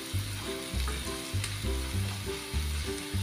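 Ingredients for coconut chutney sautéing in a pan, giving a soft sizzle with rhythmic scraping and stirring strokes repeating about every half second, close and fairly quiet, with no voices.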